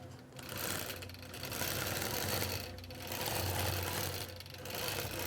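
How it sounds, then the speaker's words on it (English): A longarm quilting machine stitches a small fill pattern into a calendar quilt block, with a steady, fast mechanical whir that rises and dips in waves as the head moves, close and continuous with no talking. "So let's go ahead and quilt it."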